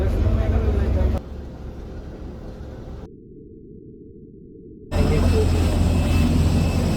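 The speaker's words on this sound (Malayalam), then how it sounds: "അയ്യോ സൈഡിലെല്ലാം വിമാനമുണ്ട് കേട്ടോ" Aircraft engines drone steadily at an airport, a loud broad roar that drops abruptly to a quieter hum and then swells back up, with a voice briefly audible.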